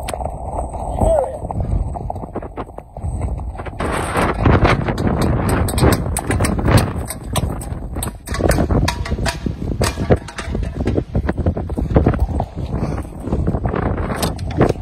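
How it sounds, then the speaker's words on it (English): Strong Storm Bella wind at 3 a.m. in Jaywick, roaring and buffeting the microphone in steady loud gusts throughout, with a person talking over it. "look how fast this wind's going"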